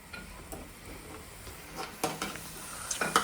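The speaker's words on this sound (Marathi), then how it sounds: "आणि मम्मा पुऱ्या तळते." Puris deep-fry in hot oil, a steady close sizzle with occasional clinks and taps of a utensil against the pan, and no voices.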